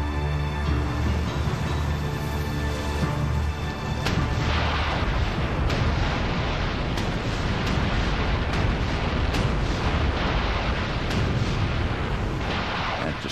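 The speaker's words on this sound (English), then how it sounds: "the fleet opens fire" Naval fleet guns firing in the D-Day bombardment off Juno Beach: a dense, continuous roar of heavy booming with sharp reports breaking through, loud and sustained throughout.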